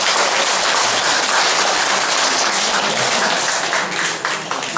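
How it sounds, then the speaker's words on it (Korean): A dense, loud round of clapping from a congregation at a monthly Buddhist temple dharma service, steady for about five seconds before tapering slightly at the end. "박수를 한번 치지."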